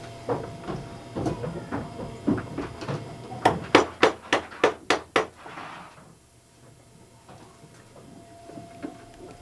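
A blacksmith's round hammer strikes metal in a shop, first a few scattered blows, then a fast, loud run of about seven ringing clanks close by, followed by quieter workshop noise.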